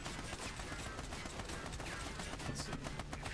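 Blind fire in the video game Army of Two, a dense, rapid rattle of gunshots running continuously at moderate level with a few louder bursts, no voices over it.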